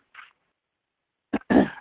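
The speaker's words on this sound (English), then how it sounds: "had to clear my throat" A brief throat clearing, a short rasp followed by a louder, fuller rough burst, close and alone with silence between.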